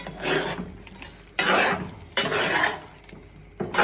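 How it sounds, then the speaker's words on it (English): A spoon scrapes and stirs seafood with bell peppers and cornstarch slurry in a pan, in several strong, rough bursts separated by brief pauses, close and alone. "just give everything a nice stir"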